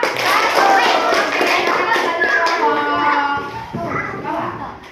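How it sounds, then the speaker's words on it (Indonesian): Elementary schoolchildren in a classroom clap for a group, a dense, continuous patter of many small hands that stays loud throughout and thins slightly near the end, with children's voices chattering underneath. "tepuk tangan dulu untuk kelompok"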